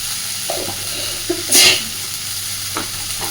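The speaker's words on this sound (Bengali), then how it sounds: "খুব ভালোভাবে এবার সব কিছুতে মিশিয়ে দেবো আর মশলা যাতে পুড়ে না দেয় অল্প অল্প করে একটু একটু করে জল দিয়ে দিয়ে মশলাটাকে কষাবো" Chili powder, turmeric and spices fry in hot oil for a Bhola fish curry, with a steady sizzle, scattered spoon scrapes and stirring knocks, and one louder hiss around the middle as the paste is worked in the pan.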